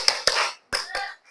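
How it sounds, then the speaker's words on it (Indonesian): Tepuk semangat, a rhythmic group clapping routine: four sharp, ringing claps in two uneven pairs, fairly loud, with no voices. "Ayo kita mulai tepuk semangat."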